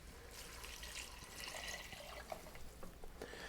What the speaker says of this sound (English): And then in goes the rest of the broth.